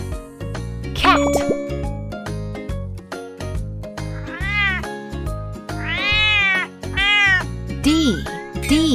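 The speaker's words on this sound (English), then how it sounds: "C is for cat." A cat meows repeatedly and close by, in several drawn-out, rising and falling calls spread across the stretch. Short pauses separate the calls, and soft knocking or plopping sounds fill the gaps.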